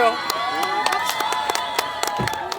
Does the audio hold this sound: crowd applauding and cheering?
yes